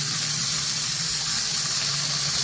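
Butter sizzling in a hot pan with a steak, a steady, bright hiss that runs unbroken and fairly loud from start to end, with no talking.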